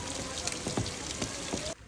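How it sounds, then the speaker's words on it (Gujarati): Heavy rain at Saputara pours down in a dense, loud hiss with scattered splashing drops, cutting off abruptly near the end. "વરસાદ ફૂલ વધ્યો."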